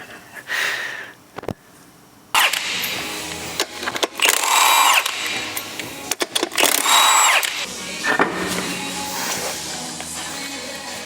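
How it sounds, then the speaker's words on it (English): A power drill bores a hole through a car's wheel arch for a rivnut: two loud, whining bursts of drilling, each a few seconds long, with handling clatter and short pauses between them. "We'll drill it through and then put the riv nuts in."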